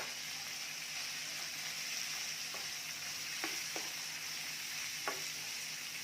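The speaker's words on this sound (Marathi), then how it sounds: "आता जो कोबी आपण घेतलेला आहे कट करून तो घालायचा आहे." Chopped cabbage hits a hot pan and stir-fries in a steady, faint sizzle, with a few sharp clicks of a spatula against the pan.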